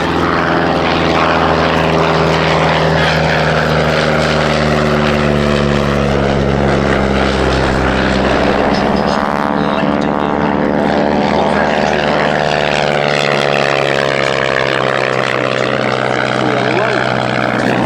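A vintage propeller aircraft with a Menasco engine flies past at an air display, a loud continuous droning engine whose pitch sweeps as it passes, with a voice talking over it.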